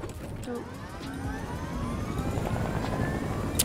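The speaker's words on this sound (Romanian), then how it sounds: "vin cu elicopterul" A helicopter arrives in a battle-royale video game, its engine whine and rotor drone rising steadily and growing louder and closer, with no talking over it.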